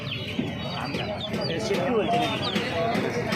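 Chickens cluck and squawk at a busy hen market, several birds calling in short overlapping bursts against a constant din of background chatter and market noise.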